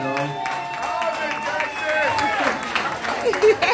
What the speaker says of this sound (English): Let's give a round of applause for Ms. Jackson, y'all.